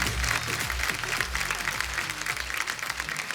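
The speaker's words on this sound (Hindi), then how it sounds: "फरहाद भाई के लिए जोरदार तालियां" Studio audience at The Kapil Sharma Show bursting into sustained, dense applause to welcome film director Farhad Samji on stage, loud and steady with music or low thumping underneath.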